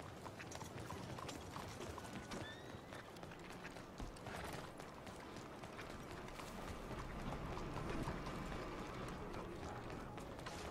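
Galloping horse hooves in the Red Dead Redemption 2 video game, a steady rapid clip-clop under dense game ambience and wind throughout, with no talk.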